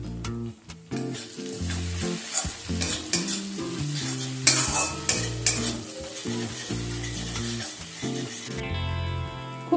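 Spice paste with turmeric and a little chilli powder frying for sukto while being stirred. Continuous sizzle sits under repeated scraping stir strokes, close and fairly loud, with no voices.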